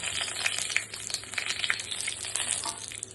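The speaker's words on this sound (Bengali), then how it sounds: "ফোড়ন হিসাবে প্রথমে দেব জিরা, শুকনো লঙ্কা" Cumin seeds and dried red chillies tempering in hot oil in a kadai, giving a dense, steady crackle and sizzle that runs for the whole stretch with small pops.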